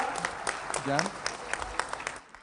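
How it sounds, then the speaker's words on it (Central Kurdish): An audience at a Kurdish public event claps in scattered, crisp bursts while someone speaks over it, and the applause thins out near the end. "چەپڵەیەک بۆ خۆتان لێن"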